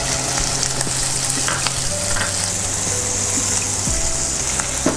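Onion and chopped garlic fry in a pan with a loud, dense, steady sizzle that holds throughout, close and continuous, with faint stirring scrapes underneath.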